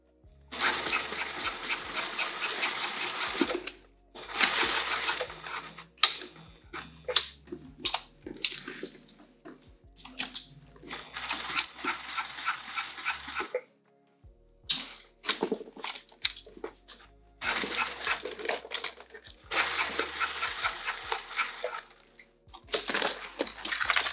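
A sewing machine stitches seatbelt webbing for a see-through tote, running in repeated bursts of rapid mechanical whirring and clatter, stopping and starting several times at close range.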